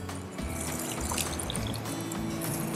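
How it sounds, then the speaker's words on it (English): Water poured over a patch of bare sand, dirt and soil, a steady close trickling and splashing that runs unbroken for a few seconds with no talk. "we'll pour about half of our water"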